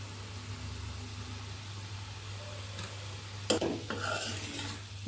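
Fenugreek leaves sauté in a pan, giving a soft steady hiss over a low hum, with a few clattering stirs near the end.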